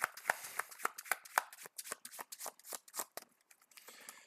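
Rapid riffle shuffling of an encounter deck of cards, producing a quick run of crisp, close flutters and snaps in an irregular rhythm, with no one talking.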